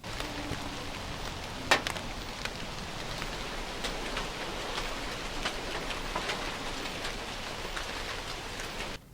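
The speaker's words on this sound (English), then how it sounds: "because today is drizzly," Steady drizzling rain outside a workshop, a soft continuous patter with scattered individual drops tapping nearby, fairly faint and even throughout with no voices.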